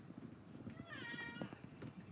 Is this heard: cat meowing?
yes